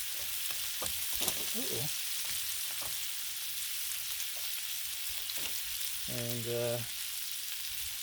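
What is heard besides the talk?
bacon frying on a Blackstone griddle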